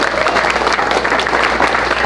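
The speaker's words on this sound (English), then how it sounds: "So before we start, can we have a round of applause for Bob for putting this together?" Applause from an audience at a debate event, a dense burst of clapping from many hands heard up close, loud and continuous throughout.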